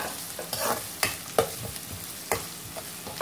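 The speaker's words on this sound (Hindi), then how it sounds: "जिंजर गार्लिक का रॉ जैसे रॉ टेस्ट खत्म हुए तब तक इसे भून लेंगे" Ginger garlic paste frying in a pan for egg chilli: a close, crackling sizzle broken by sharp stirring clicks and scrapes, with no talking.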